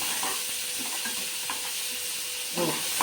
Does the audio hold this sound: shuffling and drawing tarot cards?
no